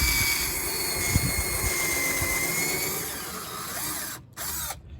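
A power drill whines steadily at close range for several seconds, pre-drilling a wood board, then cuts out briefly and starts again.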